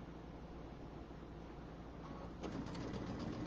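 A sewing machine stitching a fabric table topper hums faintly and steadily, with the needle's rapid rhythmic pattering growing a bit stronger near the end.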